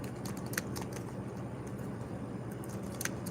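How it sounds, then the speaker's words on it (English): Fingers type on a computer keyboard in a quick, irregular patter of faint clicks over a steady low background hum, with no talk. "I'm typing it in now."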